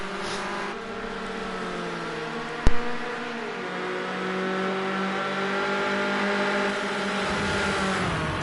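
Ford Escort RS 1600 race cars lapping a track in a racing game, several engines droning and overlapping at steady high revs as they run down a straight, with one sharp click partway through.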